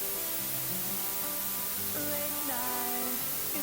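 Loud, dense dither noise hisses evenly across the whole range, burying a music program whose sustained tones still show faintly underneath, steady from start to finish without voices.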